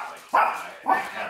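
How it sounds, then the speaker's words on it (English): A house dog barks twice in quick succession when the front door opens, loud and close, with a short gap between the two barks. "my dog is barking because my mom opened the front door."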